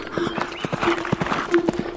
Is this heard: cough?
no